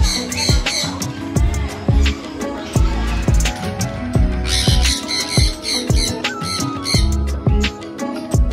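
An unidentified bird kept beside the ducks in a zoo enclosure squawks repeatedly in loud, harsh bursts close by, with a rhythmic series of calls and faint background chirps.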